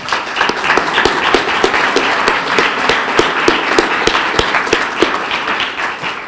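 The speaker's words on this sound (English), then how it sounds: "give those guys a round of applause" Audience applause at an annual meeting of a development organization: a steady, dense wash of clapping from a crowd, with a few sharp individual claps standing out in a loose rhythm throughout.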